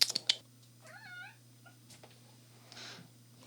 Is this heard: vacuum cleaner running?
no